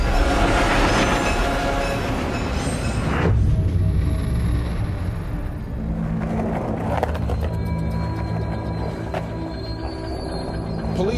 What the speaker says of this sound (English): I really wanted to ride a freight train.